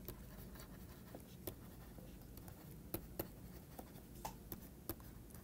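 Faint pen or chalk strokes during a mathematics lecture, scattered light taps and scratches over a steady background hiss with no talking.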